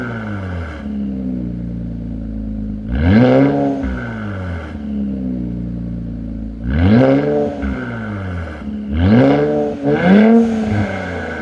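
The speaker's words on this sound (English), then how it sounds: "Let me get a couple revs in for you guys and see what you guys think of it." Infiniti Q50 fitted with a Rev9 Y-pipe and Helmholtz axleback exhaust, revving three times to a loud, rising-and-falling roar with a quick double blip near the end, settling back to a steady idle rumble between revs.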